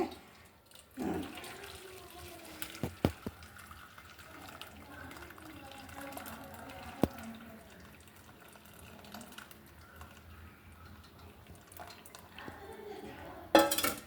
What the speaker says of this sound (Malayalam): അരിച്ചൊഴിക്കാൻ പോവേണേ.